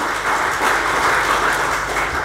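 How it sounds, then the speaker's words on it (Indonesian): Church congregation applauding during a sermon, a dense, continuous wash of clapping that fills the room evenly for a couple of seconds, with no voice over it. "Kasih tepuk tangan itu Tuhan."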